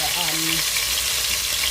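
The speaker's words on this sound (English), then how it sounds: "So the oil is ready, so I literally just be adding the turkey neck and frying them" Steady, loud sizzle of turkey necks frying in hot oil, a dense crackling hiss that fills the whole clip, with a brief faint voice-like tone near the start.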